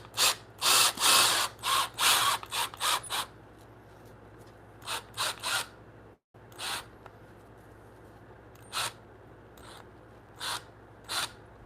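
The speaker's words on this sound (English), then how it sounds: "So you'll see me slow the drill down a little." Power drill boring into wood with a Forstner bit at maximum torque while cutting a blind mortise, heard as a cluster of loud whirring bursts at the start, then shorter intermittent spurts as the drill is slowed, close up.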